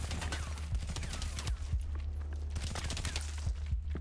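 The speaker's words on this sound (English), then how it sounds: "And he's shooting through the wall." Muffled gunfire heard through a wall in the video game Hacker Man, a rapid series of dull, thumping shots in quick bursts over a low steady in-game hum.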